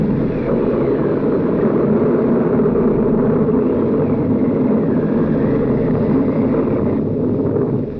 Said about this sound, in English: This deep, rumbling, ominous thundercrack became one of the most reused sounds in cinema history.